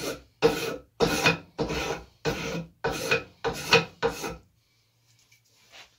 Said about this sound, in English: These scraper spoke shaves for these don't take much off at all.